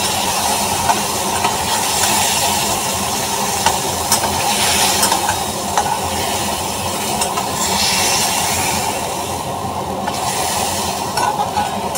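Water poured into a hot pan of stuffed brinjal curry with masala sets off a loud, steady sizzle and steamy hiss lasting throughout, with occasional stirring scrapes and no talk.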